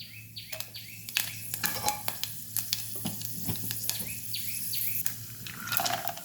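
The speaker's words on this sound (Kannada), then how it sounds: "ಒಂದು ಎರಡೂವರೆ ಟೇಬಲ್ ಸ್ಪೂನ್ ಎಣ್ಣೆ ಹಾಕ್ಕೊಂಡಿದ್ದೀನಿ" Mustard seeds and chana dal fry in hot oil for a simple upma, a busy crackling sizzle with sharp pops, alongside bird chirps in the background.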